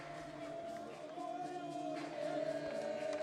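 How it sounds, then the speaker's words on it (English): Basketball arena crowd in the Jerusalem section cheering as Hapoel Jerusalem take a 12-point lead over AEK in a Champions League game; a sustained, rising roar of many voices with a sung chant on top. "the crowd in the Jerusalem section are really happy as their team take a 12-point lead"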